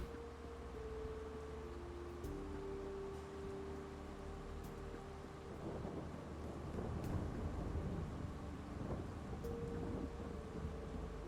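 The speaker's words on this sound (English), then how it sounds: "Don't know how long the rain's gonna last though." Rain hisses steadily with low thunder rumbling in Farming Simulator 22, quiet and continuous beneath the hum of a tractor engine.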